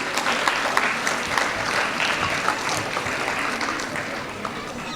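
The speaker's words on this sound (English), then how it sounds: "A big round of applause for him." A school annual day audience applauds a class topper with dense, sustained clapping that holds steady and loud for the whole stretch, with a faint crowd murmur under it.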